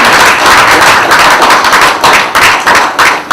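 Loud, dense audience applause greets a guest arriving in a studio, a continuous wash of many hands clapping with a few brief dips in intensity.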